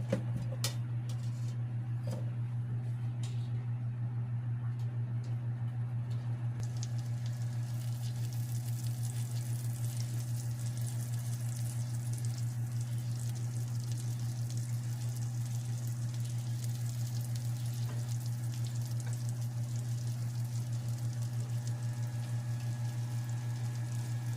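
Salmon steak frying in butter in a pan, a steady, soft sizzle running continuously for a long stretch under a constant low hum, with a few faint clicks near the start and no voices.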